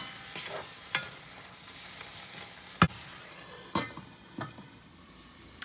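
Paneer pieces sizzle faintly in a covered pan, a soft steady frying hiss broken by a few sharp clicks and knocks, close and quiet with no voices.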